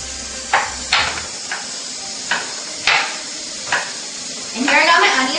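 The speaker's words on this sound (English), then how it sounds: "And here I got my onions, I'm chopping them." Onions sliced into long strips with a kitchen knife, about seven sharp, separate chops spaced unevenly, close and fairly loud. A faint sizzling rises at the end.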